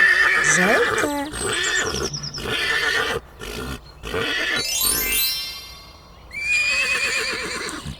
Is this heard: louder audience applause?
no